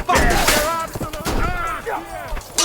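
Gunfire crackles and booms during a chaotic medieval battle in Kingdom Come: Deliverance 2, with rapid loud shots under urgent shouting voices.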